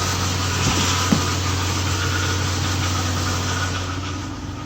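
A Nissan Infiniti VK45DE 4.5-liter V8 idling steadily after reassembly, a loud, even low hum with a faint mechanical clatter and one brief knock early on.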